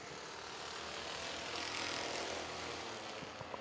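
Engines of racing trucks roar together as the green flag drops for an eight-lap heat race, a steady, dense, loud drone that swells slightly midway and carries no speech.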